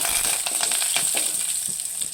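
Curry leaves hit hot oil in a pan for a peanut sambar, crackling and spitting in a dense, close sizzle with rapid popping throughout.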